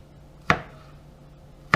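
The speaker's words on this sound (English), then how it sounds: "Then you're just going to start to cut it with your sharpened knife" A sharpened kitchen knife chopping a tomato into small squares on a board, two crisp close chops about a second apart in an otherwise quiet room.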